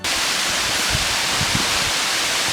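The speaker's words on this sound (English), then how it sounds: "It's me and Suave are the first ones to come down to see the waterfall." A waterfall roars in a steady, loud, dense wash of rushing water, heard up close and unbroken throughout, with no voices over it.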